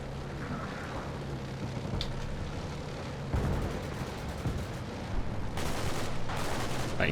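Gunfire from recon units in the Cold War wargame Combat Mission, a steady stream of distant shots and bursts with a sharper, louder volley partway through over continuous background rumble.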